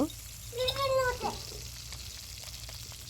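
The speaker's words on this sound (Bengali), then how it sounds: "মাছগুলো ভেজে নিব, ভেজে নিয়ে উঠিয়ে নিব।" Fish frying in hot oil for a green plantain and fish curry, a steady crackling sizzle under a brief tonal voice near the start, then continuing evenly.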